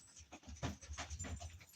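Dogs pant close by in quick, uneven breaths, soft and faint, with no talking.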